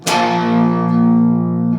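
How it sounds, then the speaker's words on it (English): A sustained electric guitar chord rings out through a distortion pedal, struck sharply once, then held loud and saturated with a rich, buzzing sustain before cutting off. "at the end when you let that ring, that's when I click mine on"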